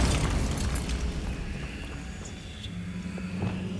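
A Bombarda blasting spell in Hogwarts Legacy goes off with a loud, broad explosive boom at the start, then a rumbling tail fades under lighter debris crackles and faint game effects.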